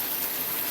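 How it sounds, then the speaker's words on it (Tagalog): Coconut milk pouring into a cooking pot of ginataang tambakol with squash and okra, a brief, steady, close gush of liquid. "At ang ating panggata."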